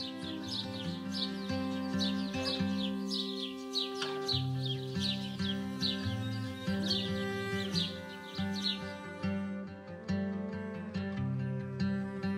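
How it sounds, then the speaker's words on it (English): Many exotic birds in the Amazon rainforest chirp and whistle in overlapping calls over a dense, layered background of tonal hooting and animal cries, continuous and fairly close. "The Amazon offers landscapes of boundless green, sounds of exotic birds,"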